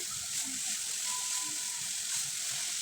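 Machine-chopped potatoes fry in hot oil with turmeric for aloo bhaji, producing a dense, continuous sizzle that stays close and even throughout, with faint stirring underneath.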